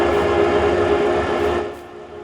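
Feed mixer in the Farming Simulator 19 game runs with a steady loud mechanical drone and hum, fading slightly toward the end.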